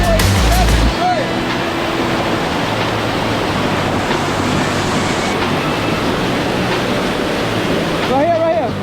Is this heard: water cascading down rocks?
yes